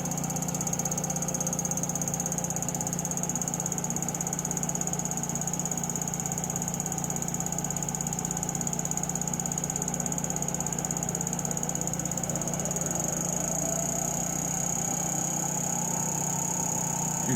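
A Brewer Science 100 spin coater runs at roughly 1,000 RPM, giving a steady motor hum with a constant high whine, even and unbroken from start to finish, with no talking.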